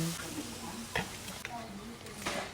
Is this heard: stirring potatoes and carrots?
yes